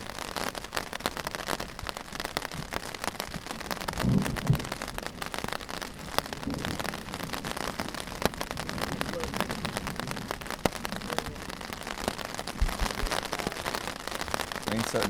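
Steady rain pattering on a Cuban tarp at a hiking trail camp, a dense continuous crackle of drops close overhead with occasional heavier taps and a faint voice.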